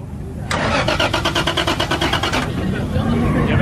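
A drift car's starter cranks in a rapid rhythmic chug for about two seconds, then the engine catches and settles into a steady running rumble.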